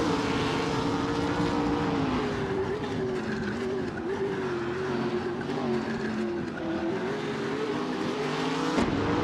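A 2019 BMW M8 GTE race car engine on track, a steady, loud high-revving drone with a sustained tonal whine that rises and falls slightly, continuous throughout with a small bump near the end.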